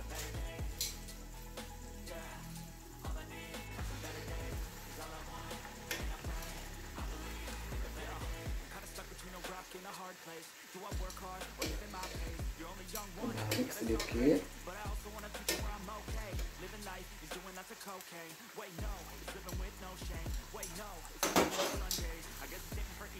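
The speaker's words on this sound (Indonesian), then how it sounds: "Kita goreng hingga matang." Churros dough frying in hot oil, a steady broadband crackle and sizzle that runs the whole time with occasional clinks of a utensil against the pan, no voices over it.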